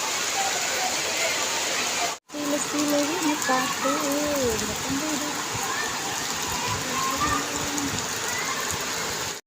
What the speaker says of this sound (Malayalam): അപ്പോഴത്തേക്ക് നല്ല മഴയായി